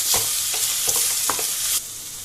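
A lemon and date pickle is mixed with a tablespoon of sugar, giving a steady bright hiss with soft rhythmic scraping strokes of a spoon, close and without speech.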